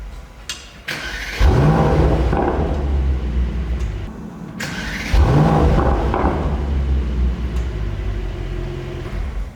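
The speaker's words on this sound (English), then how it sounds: "I can't rev it for you, but I can do that a couple more times for your enjoyment" A 2021 Mercedes-AMG E63 S fires up twice, each start a loud whirring crank and flare that settles into a deep, rumbling idle, heard up close with no talking.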